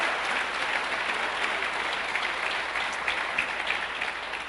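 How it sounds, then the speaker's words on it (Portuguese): Church congregation applauding loudly during a sermon, a thick continuous roar of many clapping hands, strong and unbroken from start to finish. "Aplauda Jesus bem forte"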